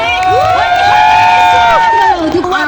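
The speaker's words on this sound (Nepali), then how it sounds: "उहाँ आइसक्नु भएको छ स्टेजमा उहाँको लागि जोरदार ताली" A loud, close crowd cheers, whoops and shouts, with children's voices among them, as a Nepali folk and dohori singer comes onto the stage.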